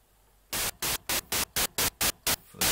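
Static-like white noise bursts from the noise oscillator of a Kodamo Mask1 bitmask synthesizer, shaped as a snare: eight or so short, evenly spaced hissing hits that are loud and close over a faint background hiss.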